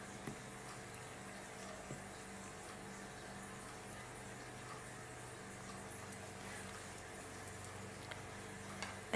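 Water poured into a jar for a homemade herbal tincture: a steady, even rush of liquid that runs unbroken for about nine seconds, with no talking.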